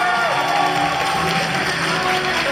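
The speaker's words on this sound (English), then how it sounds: "let's give a big round of applause to our Miss Asia Canada 2017 and Mr. Asia Canada 2017" A crowd bursts into applause and cheering for the newly crowned Miss and Mr. Asia Canada 2017 at a beauty pageant final, a dense, loud ovation filling the hall without a break.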